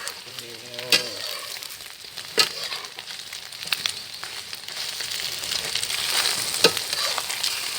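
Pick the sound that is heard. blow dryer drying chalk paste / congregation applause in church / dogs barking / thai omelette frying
thai omelette frying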